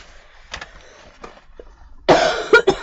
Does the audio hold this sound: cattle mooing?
no